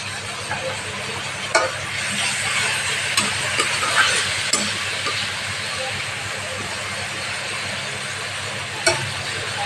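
Ground masala hisses and sizzles in hot oil in a pan as a little lukewarm water is poured in, a steady steamy hiss with a few sharp clicks and scrapes from stirring.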